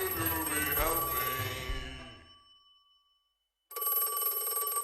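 Telephone bell ringing in a Don't Hug Me I'm Scared song: a bright, fairly faint ring fades to silence, then starts again abruptly.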